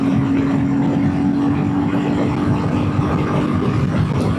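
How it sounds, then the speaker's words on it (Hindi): A Royal Enfield Himalayan 450 motorcycle runs at full throttle on an open highway, giving a loud steady engine drone mixed with wind rush, unbroken throughout. "आज मुझे लगता है कि पहली बार मैंने बाइक को इतना खोला है"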